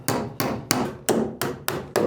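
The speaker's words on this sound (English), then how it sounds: "There's a lot more stapling to do." A staple hammer fires repeatedly inside a boat cabin under construction, seven sharp, loud, evenly spaced whacks about a third of a second apart, each with a brief ringing decay.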